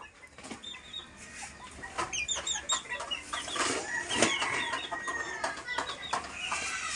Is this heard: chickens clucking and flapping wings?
yes